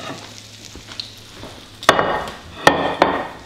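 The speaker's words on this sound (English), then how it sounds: "let's get us out a couple of plates" In a home kitchen, plates are pulled from a cupboard while French toast is being made, giving a few sharp, close clinks and knocks over a soft background of frying sizzle.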